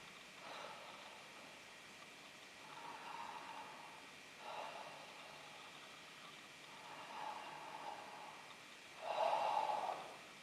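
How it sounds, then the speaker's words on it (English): A person breathes deeply in and out in slow, even cycles about two seconds apart, soft airy rushes heard close and quiet, with the last breath louder than the others. "When I'm breathing in, my belly is coming out."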